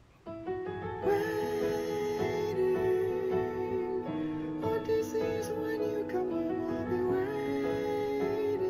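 A melodic piano motif in a major key plays steadily with sustained chords underneath, fairly loud and continuous throughout.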